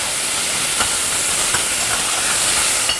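Finely crushed onions and tomatoes simmer in a pan for peri pasta, giving a steady, close sizzling hiss throughout with a few faint pops.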